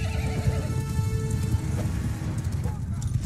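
Horses neigh and gallop in a Mount & Blade 2 Bannerlord battle, whinnies rising over a steady drum of hoofbeats and battle noise, with someone talking over the top.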